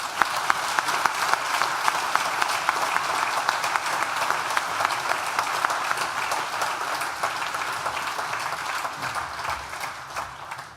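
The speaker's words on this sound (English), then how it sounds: "please join me once again in a big, rousing round of applause to celebrate our achievements" A large university graduation audience applauds steadily for over ten seconds, the dense clapping from the crowd staying even and full throughout before tapering slightly at the end.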